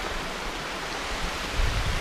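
Waterfall at Cachoeira São Miguel, a loud, steady broadband roar of falling water with a slight low rumble swelling near the end, with no voices.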